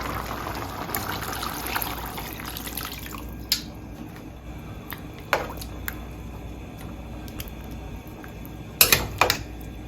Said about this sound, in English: To this, I'm going to add about a cup of water.